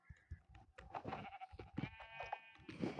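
Several short Minecraft sheep bleats in quick succession, close and clear, with a few overlapping calls and no talking.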